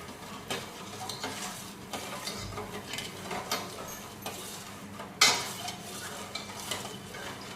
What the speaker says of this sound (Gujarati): આપણે તેને હલાવી દેવાનું છે